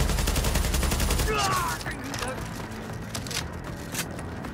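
Sustained gunfire in Tom Clancy's The Division, a light machine gun firing a dense burst that is loud at first and then drops to scattered shots amid game noise.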